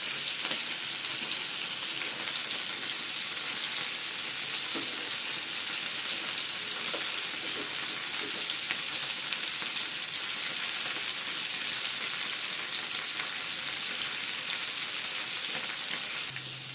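Ayla fish fries in a pan, producing a dense, even sizzle and hiss that holds steady and close for the whole stretch, with only faint spatters and no voices.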